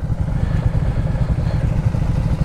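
Loaded motorcycles idling and pulling away at the start of a ride from Delhi, a loud, close, continuous low engine rumble with rough mechanical clatter.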